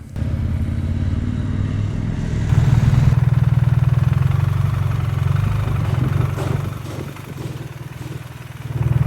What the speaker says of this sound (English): The ferry had already docked, and it wasn't long before the vehicles started to disembark.